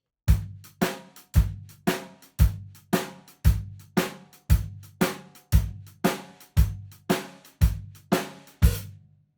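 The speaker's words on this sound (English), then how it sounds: "1 and 3 in the bass drum, 2 and 4 in the snare drum, shuffle rhythm on the hi-hat" A drum kit plays a standard shuffle groove: bass drum and snare alternate in a steady backbeat while the hi-hat swings a shuffled pattern, loud and close with no talking.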